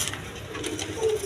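A male colored golla pigeon gives a low, muffled coo under steady background noise, faint and brief, with no clear voices.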